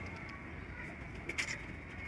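Saharanpuri pigeons coo softly and close by, low murmuring calls over a steady background hiss with a brief brighter note near the end.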